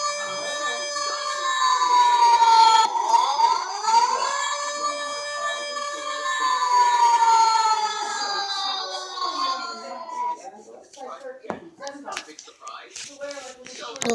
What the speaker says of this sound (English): this was the video of a tornado siren test